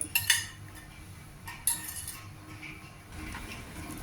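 A spoon scrapes and clinks against a bowl a few times, stirring thick brinjal chutney with fried tempering, fairly close, with quiet pauses between the clinks.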